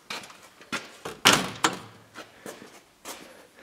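A camper's screen door on a 5th wheel trailer, fitted with a new latch, swings and claps shut several times, giving a string of light slaps and thunks up close with one harder bang in the middle.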